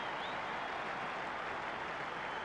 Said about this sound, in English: The crowd tells you that is a goal.